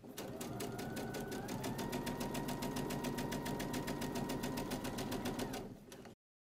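A sewing machine top-stitches around a fabric face mask, its needle pounding out a fast, even mechanical rattle that runs steadily and then stops abruptly.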